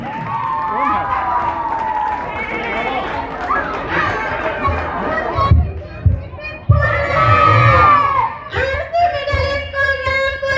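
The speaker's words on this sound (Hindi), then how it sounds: "इस पूरे टीम के लिए जोरदार तालियां हो जाए।" A crowd at a football tournament prize ceremony cheers, with children shouting, overlapping chatter and scattered clapping, rising in bursts, loud and lively throughout.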